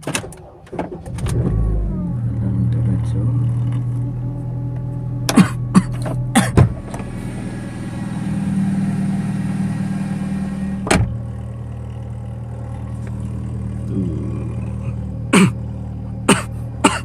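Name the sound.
Honda Civic FD engine starting and revving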